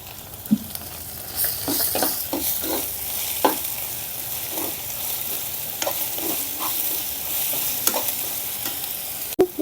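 Ginger garlic paste and green chilli paste fry in a pan with a steady, close sizzle, punctuated by repeated scraping stirs of a spatula; nobody speaks.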